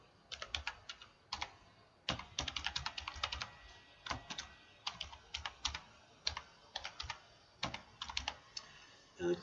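Typing on a computer keyboard, quick bursts of close, crisp key clicks separated by short pauses, steady and fairly quiet with no voices.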